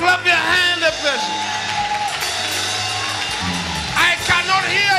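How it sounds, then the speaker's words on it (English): Church congregation clapping, shouting and cheering at a healing service, a loud continuous crowd roar with whoops throughout and a voice speaking over it. "Come on, clap your hand"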